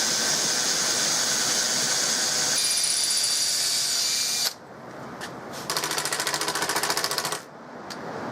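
A screw is power-driven into the stock of an H&R Model 12 target rifle to cut threads, giving a loud, steady high whine that stops abruptly, then a second shorter, pulsing buzz.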